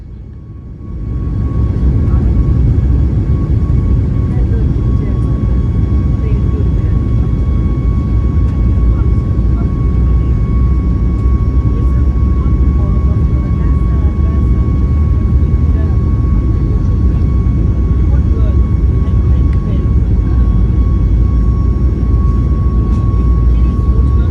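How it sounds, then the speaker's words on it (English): Loud, steady roar of CFM LEAP-1B airliner jet engines spooling up for takeoff from North Goa airport, a dense rumbling drone with a thin whine riding on top, heard from inside the cabin. "enjoy it as the CFM LEAP 1B engines spool up for our takeoff"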